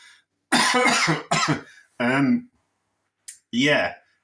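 A person coughs in several harsh bursts, close and loud, with short pauses between fits, in a room filled with dried chilli pepper.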